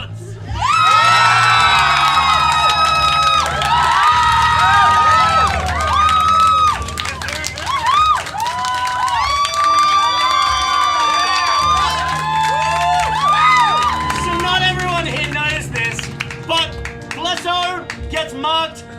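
A crowd cheers, whoops and shouts in approval after a rap at a Christmas special tabletop role-playing game session, loud and lively throughout with overlapping voices and music underneath.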